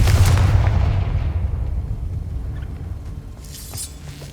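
A Confringo fire spell explodes in the video game Hogwarts Legacy: a loud, booming burst at the start that rumbles and crackles as it slowly fades over several seconds.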